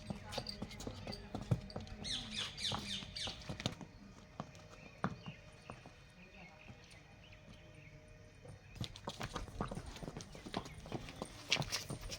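Hooves of a saddled horse clip-clopping on hard ground, irregular close steps in clusters, with talk in the background.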